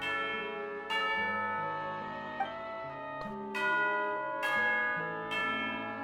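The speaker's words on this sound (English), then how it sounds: "Sound the bell." A resonant bell in the Genshin Impact game tolls for tea time, four struck strokes spaced a second or more apart. Each ring is bright and metallic and lingers over a soft, sustained musical backdrop.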